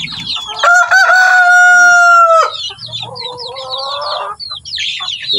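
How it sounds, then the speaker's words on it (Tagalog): Backyard chickens in a small coop make noise up close: a rooster lets out one long, loud crow, followed by busy clucking and chatter from the flock. "Ayan, mga malulusog nating sisiw."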